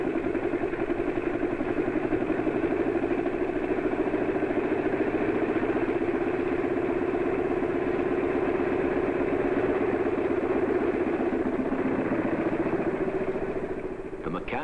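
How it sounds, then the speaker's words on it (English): A rebuilt aircraft engine runs at high speed on a 1940s airport test stand, giving a steady, loud mechanical drone with a constant pitch that barely changes until it eases slightly at the end. "Then they put the engine back together again and run it at high speed for many hours."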